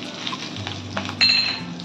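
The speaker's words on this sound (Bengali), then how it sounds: "শুকনো লঙ্কাটা একটু ভাজা হলে মেথিটা হয়েছে। এবার দেবো মেথিটা।" Dried chillies and fenugreek seeds sizzle and fry in hot oil in a pan for a Bengali dal, a steady close crackle with a brief sharper scrape of stirring midway, no talking.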